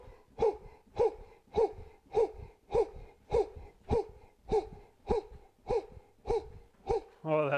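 Power breathing exercise done with a Cellercise rebounder, breath pushed in and out in a steady rhythmic series of about a dozen sharp, close puffs roughly every half second, ending in a brief vocal sound.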